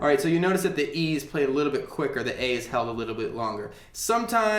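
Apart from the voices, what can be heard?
No distinct noise like a dog, phone or traffic.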